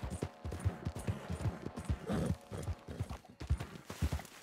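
Horse hooves in the video game Red Dead Redemption 2 clop steadily at a trot, close and distinct, with a brief whinny-like burst partway through.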